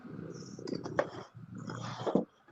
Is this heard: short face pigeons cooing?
no